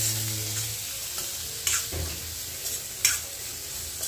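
Cooked bitter gourd (karela) with coriander being stirred in a pan, a soft sizzle with a few sharp spoon-on-pan scrapes and knocks, close and brief, no talking.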